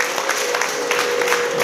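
Wedding guests clapping for a couple at their ceremony, a brief, steady burst of crowd applause heard close and fairly loud with no pauses.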